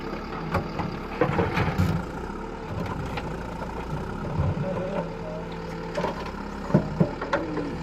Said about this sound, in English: Here's a bulldozer opening up the ground.